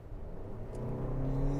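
A 2024 Lexus TX 350 accelerating from 50 km/h, heard from inside as a low engine hum and road rumble that gradually builds and rises in pitch, steady and moderately quiet, no speech.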